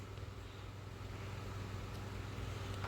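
A Luxiar WMA80823 impeller top-loading washing machine starting its spin, giving a steady low hum and rumble that holds level and builds slightly over a few seconds, with no voices.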